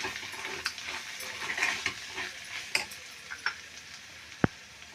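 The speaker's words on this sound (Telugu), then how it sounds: "ఇప్పుడు మొత్తం అంతా బాగా కలుపుకోవాలి." A spoon stirs and scrapes through an octopus and brinjal curry frying with garam masala and cumin powder, over a steady close sizzle, with irregular knocks against the pan and one sharp clink near the end.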